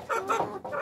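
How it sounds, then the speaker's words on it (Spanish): A creole hen clucks in a few short, close bursts, the calls loud and clear with no one talking. "aquí tenemos a nuestra gallina"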